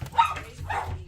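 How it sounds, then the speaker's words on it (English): Dog barking at someone at the door, two short barks close by in a quiet room. "That's my dog Mira, announcing that there's somebody at th"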